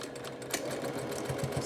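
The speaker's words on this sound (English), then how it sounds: "sew the dart" A sewing machine runs a short burst of stitching along a dart in fabric for a bowl cozy, a steady close mechanical whir with a few louder clicks near the end.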